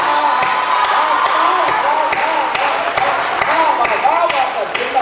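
Audience at an open-air Hindi kavi sammelan poetry gathering breaks into loud, sustained clapping and cheering, a dense wash of hands that continues steadily throughout.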